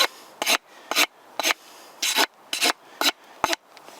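A file card's bristles drawn back along the metal teeth of a saw-chain file in seven short, crisp raspy strokes, evenly spaced, close and alone.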